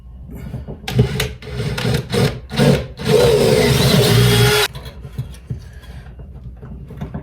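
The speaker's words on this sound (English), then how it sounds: "then we'll drill the holes for the point motor" A power drill whirs in several short bursts, then runs steadily for a couple of seconds as it bites through wood for an N gauge railway point motor, with some clatter around it.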